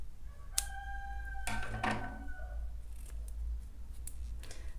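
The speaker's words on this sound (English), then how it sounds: "and cut your yarn." Scissors snip through crochet yarn while finishing a butterfly crochet top; a couple of crisp, close cuts stand alone over a low hum.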